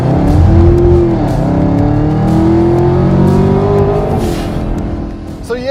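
A 2020 Ford Mustang Shelby GT500 with a 5.2-liter supercharged V8 of 760 horsepower accelerates hard. Its loud, close engine drones with a deep, steady roar that climbs slowly in pitch, then fades slightly as the car pulls away.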